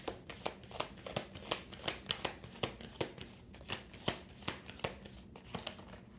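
Tarot cards being shuffled by hand, with a quick run of crisp riffling snaps and flicks repeating at an uneven, rapid rhythm close up, with no talking over them.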